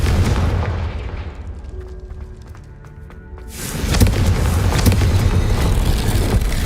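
A Confringo fire spell detonates in Hogwarts Legacy, a loud booming blast after a fading rumble and brief quiet, followed by a sustained roaring, crackling burst of explosive noise.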